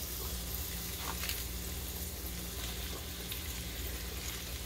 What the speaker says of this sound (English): What I'm actually going to do with my collards is put them directly into my pan here.